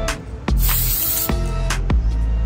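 An aerosol can of spray paint hisses onto styrofoam-like foam in several bursts, loud and close, each spray a harsh broadband rush with short gaps between and no voices.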